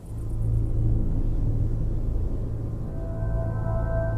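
Thunder from a massive tropical summer thunderstorm rolls low and steady, a sustained deep rumble with no talking.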